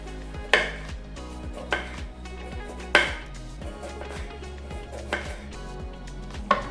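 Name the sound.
chopping bitter gourd into thin rings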